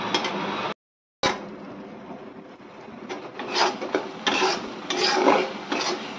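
Spice paste with onion and garlic is stirred and scraped in a pan, giving faint, irregular rasping and rubbing strokes with a brief silent gap near the start and no talk.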